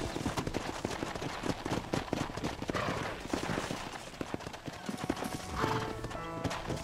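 Horse hooves clip-clop in Red Dead Redemption, a brisk continuous rhythm of close, loud hoofbeats with a whinny near the end and game sounds around them.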